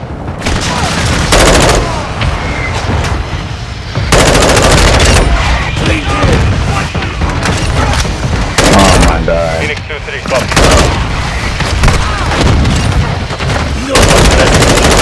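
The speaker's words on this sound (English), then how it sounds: "Friendly mortar strike on the way." A friendly mortar strike and gunfire in a military shooter video game, with loud, continuous bursts of automatic fire and booming impacts over fifteen seconds and pauses between volleys, under occasional game radio voices.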